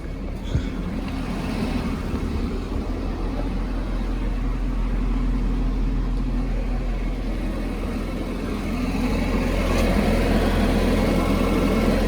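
A car engine runs steadily after a long, difficult start, a low continuous rumble at a close, even level that swells slightly toward the end.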